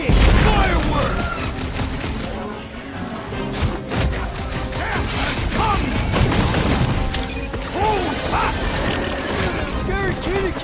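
Explosive fireworks bursts from Rocket in the video game Marvel's Guardians of the Galaxy, a dense, loud run of booms and crackling blasts mixed with game music and shouted voices throughout.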